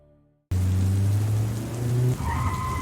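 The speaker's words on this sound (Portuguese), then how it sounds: "O barulho dos freios na via molhada, os olhos do motorista horrorizados, um impacto ensurdecedor." Car brakes screech on a wet road: after a brief hush, a loud sustained squeal of tires rises and holds against a wash of road noise, then shifts into a higher, thinner tone near the end.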